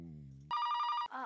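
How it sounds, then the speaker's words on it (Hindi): A telephone rings loudly at night in a home, one steady electronic trill lasting about half a second, with a voice before and after. "जरा फोनवा देखना, इतनी रात में कौन फोन कर रहा है?"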